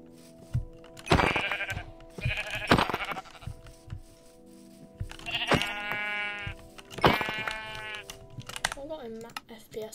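Sheep in Minecraft bleat several times, loud nasal wavering calls repeating in pairs at close range, with a few soft clicks and thuds between them.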